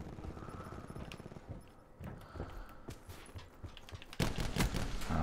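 Rapid bursts of video game gunfire crackle through a gun-match round, with irregular shots across the clip and a louder, denser volley near the end.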